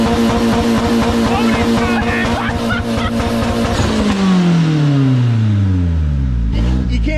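A Honda Civic engine on a dyno is held at a loud, strained rev, then drops away in a long falling whine as it winds down, with a brief clatter near the end.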